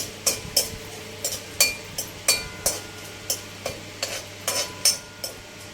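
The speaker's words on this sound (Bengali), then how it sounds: "ধনে আর শুকনো লঙ্কা ভালো করে লাল করে ভেজে নিয়েছি" Whole coriander seeds and dried red chillies frying in hot oil while a spatula taps and scrapes the pan in a steady rhythm of sharp, close strokes over a low sizzle.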